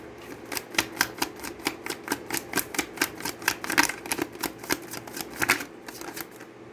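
Tarot cards shuffled by hand, a fast run of crisp riffling snaps in a steady, close rhythm for several seconds, with no voices.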